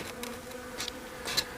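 Honey bees buzz steadily around an open hive during a beekeeper's check of the colony's food reserves, a close, soft continuous drone with occasional louder passes of individual bees and no talking.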